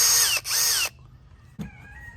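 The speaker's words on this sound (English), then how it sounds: "Got my handy cordless drill" A handheld cordless drill whirs in two short bursts close by, separated by a brief dip in speed, then cuts off and leaves a quieter tail with a faint clunk.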